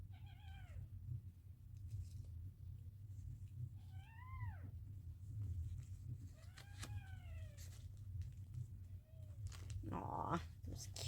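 Kittens meowing in short, high, rising-falling cries, several spaced calls over a low steady background hum, faint and indoors.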